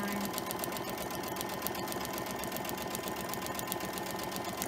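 A sewing machine stitches a quilt block in a steady, rapid, continuous run at close range, with no talking.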